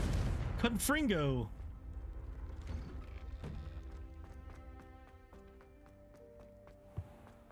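A Confringo explosive spell cast in a wizard video game bursts out as a loud whooshing blast with a warbling sweep in the opening second, then gives way to soft game music with a sharp pop near the end.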